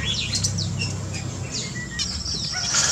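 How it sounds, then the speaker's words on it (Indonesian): Birds in an aviary during breeding season chirp and tweet repeatedly in quick overlapping calls, fairly close, over a low steady background hum. "burung-burung yang sedang memasuki musim berbiak ya di aviari kita ini"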